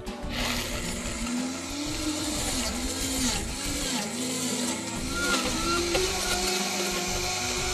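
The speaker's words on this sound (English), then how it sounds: "and then turn the blender on high." An Oster blender runs on high, grinding peanuts into peanut butter in a jar with a tamper inserted, a loud steady whirring roar with a wavering pitch throughout.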